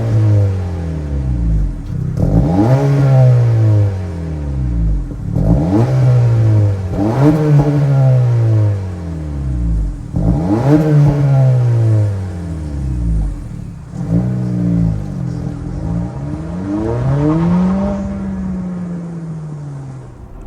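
Revving of a 2023 Honda Civic Si's 1.5-liter turbocharged four-cylinder, heard close from behind at the exhaust: five repeated loud blips that rise sharply and fall back to idle, the last rev held longer.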